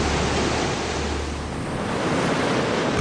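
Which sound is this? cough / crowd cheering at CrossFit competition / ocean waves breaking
ocean waves breaking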